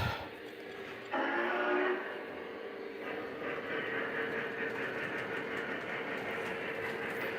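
O-gauge model trains run on the track with a steady rolling rumble and soft clickety-clack, quiet and continuous, with no talking.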